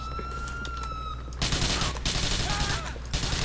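Rapid gunfire in Grand Theft Auto IV, a sudden loud burst of shots after a quieter stretch with a siren wailing, repeated cracks continuing to the end.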